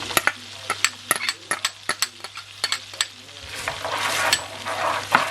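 Finely diced washed garlic frying in a pan as the base for sweet chili prawns: a close, crackling sizzle with a run of sharp utensil taps and scrapes, swelling into a louder hiss toward the end.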